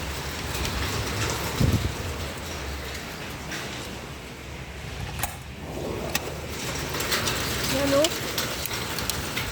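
Heavy rain and hail pour down steadily in Lakatamia, Cyprus, a dense wash of noise with scattered sharper hailstone impacts and faint voices talking now and then in the background.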